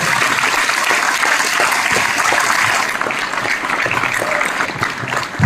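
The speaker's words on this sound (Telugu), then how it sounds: "non stop claps for 1 minute" A crowd applauds a guest speaker, a respected teacher, at a personal development talk, with steady, dense clapping that holds loud and continuous throughout.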